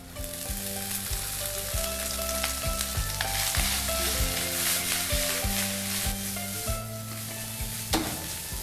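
Rice frying in a pan after curry leaves are added, a continuous close sizzle with repeated rhythmic scraping and stirring strokes throughout, no talking.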